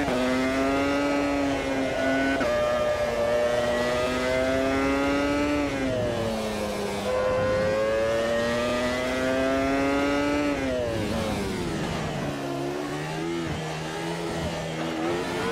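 A French race car in a sim racing game howls at full throttle in top gear, its strong harmonic engine note climbing and dropping through shifts and downshifts, loud and continuous for the whole stretch.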